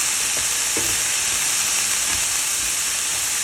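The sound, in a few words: long beans and carrots frying in pan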